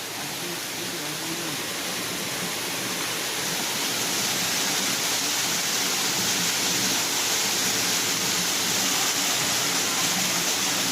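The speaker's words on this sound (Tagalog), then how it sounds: "This is Pinoy An Falls in Bislig, Surigao del Sur" Pinoy An Falls in Bislig, Surigao del Sur, roars as a steady, loud, close wash of falling water, unbroken throughout with no voices.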